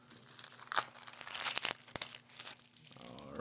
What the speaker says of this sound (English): Most satisfying part of every unboxing is peeling the cover off.